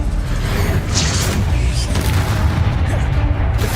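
A Bombarda spell blast in Hogwarts Legacy, a loud, dense rumbling boom with crackling debris sustained throughout, with faint voice underneath.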